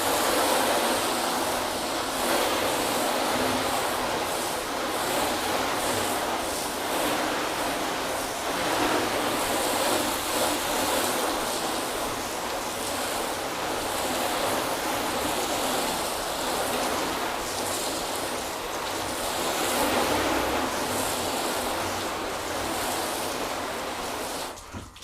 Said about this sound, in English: let's give this panel a good rinse